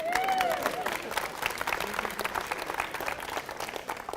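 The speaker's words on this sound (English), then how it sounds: "if you want to clap them" An audience claps for sponsors at a championship final weekend event, a dense, steady round of applause with a brief whistle or tone near the start, continuing evenly to the end.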